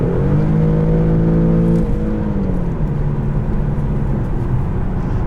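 A 2017 Infiniti Q70S with a 7-speed automatic accelerates hard to pass, its engine heard from inside the car as a loud, rising harmonic drone that drops briefly at an upshift, then climbs again as road noise swells.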